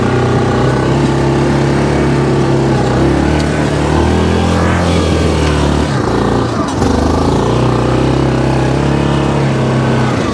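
A 2022 Grizzly 700 ATV in four-wheel drive low, diff lock off, climbs a hill with a loud, steady engine drone that surges and dips as the wheels spin, running continuously close to the microphone.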